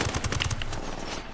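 Gunfire in the video game Ghost Recon, a loud rapid burst of automatic shots lasting about a second before trailing off, with no talking.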